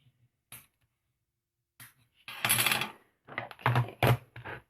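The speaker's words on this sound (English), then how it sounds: "I'm going to fold my Real Red in half and burnish it with my foam folder" Folded Real Red cardstock burnished with a foam folder, giving brief scraping rubs and soft swishes in short bursts, close by, separated by quiet gaps with no talk.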